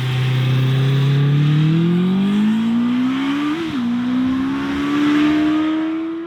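A Honda CB650R motorcycle's inline engine revs high and hard, its rising pitch climbing steadily, dipping briefly at a shift, then pulling up again, loud and close with no talk.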